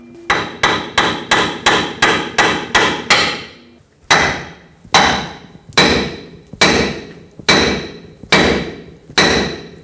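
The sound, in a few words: hammering a suspension bracket loose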